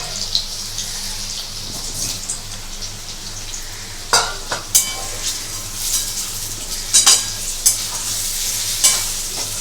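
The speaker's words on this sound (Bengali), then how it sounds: "যতক্ষণ পনিরটা ভাজছি" Paneer frying in a pan for a Bengali aloo paneer curry, a steady bright sizzle with scattered pops and spatters, close and fairly loud, with no talking.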